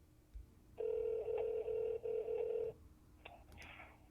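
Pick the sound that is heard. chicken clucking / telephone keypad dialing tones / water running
telephone keypad dialing tones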